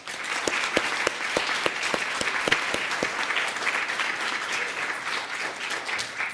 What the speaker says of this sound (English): I'd also like you to applaud again for our 2026 Kid Governor and Cabinet